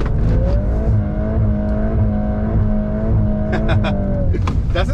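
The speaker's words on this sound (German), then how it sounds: "erster Gang, einlenken, Vollgas" Volkswagen Golf R Variant pulling hard at full throttle in first gear in drift mode with stability control off, engine note climbing steadily and loud, with tire and mechanical noise layered over the rising drone.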